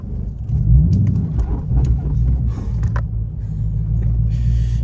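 Dodge Challenger SRT8 with a manual gearbox pulling away in gear on a first drive, a steady low engine rumble at moderate volume throughout, with no talking.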